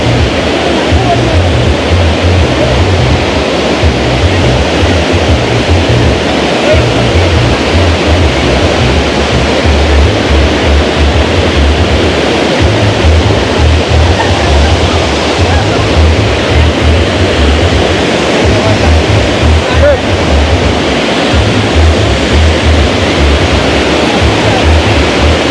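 Rushing water pours at a waterfall with a loud, unbroken roar that lasts the whole time, while voices talk faintly underneath.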